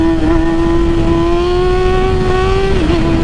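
A motorcycle engine held high during a wheelie gives a loud, continuous buzzing drone that climbs slightly in pitch, then dips near the end as the throttle eases, with no talking.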